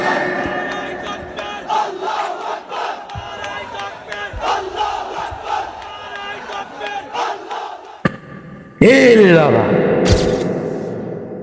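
A large crowd at an outdoor waz mahfil chanting takbir in loud echoing unison, repeated call-and-response shouts with reverberation, ending in a sudden louder burst of cheering.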